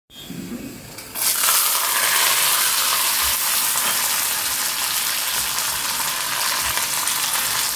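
Semolina for halwa cooking in a nonstick pan, a loud, steady close-up sizzle that starts abruptly after a quieter second and runs continuously with faint scraping underneath.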